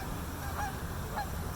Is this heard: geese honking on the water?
yes